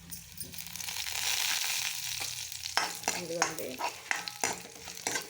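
Ajwain, mustard seeds and urad dal sizzle in hot oil as rasam tempering, a steady hiss broken by sharp crackling pops and stirring scrapes, with a brief voice at the start.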